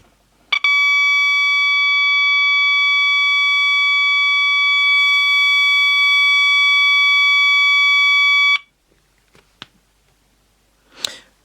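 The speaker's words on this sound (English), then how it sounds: "I will short the probes out and we'll see what tone this produces." A GPO 165A electrical tester with its probes shorted emits a loud, steady pure tone rich in harmonics for about eight seconds, then cuts off abruptly, followed by a few faint clicks and a soft rustle.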